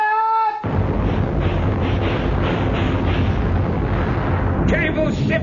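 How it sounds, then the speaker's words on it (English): A ship's cannon booms in a radio drama: after a brief tone, a loud, sustained rumbling blast rolls on for several seconds with voices heard through it. "Tell Mr. Hornblower to fire his guns when ready, Mr. Bush."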